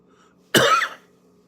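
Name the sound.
cough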